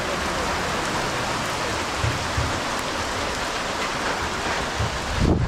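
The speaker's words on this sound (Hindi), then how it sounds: "तो भाई साहब यह है पोखरा की बारिश," Steady rain falling in Pokhara, Nepal, a dense, continuous hiss of drops on surfaces, loud and close throughout, with a few low thumps of heavier drips and no voices.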